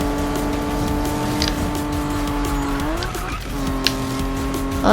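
A car races at high speed in the video game Need for Speed, a loud continuous engine drone with shifting gear pitch and a brief tire squeal near the end.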